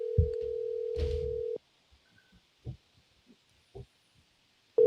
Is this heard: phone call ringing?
yes